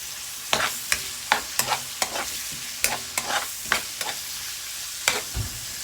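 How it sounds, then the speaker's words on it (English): Onion and garlic sauté in a hot pan for spicy pancit canton, a steady sizzle broken by sharp, rhythmic spatula clinks and scrapes against the metal, close and fairly loud. "So while I'm sauteing my onion and garlic"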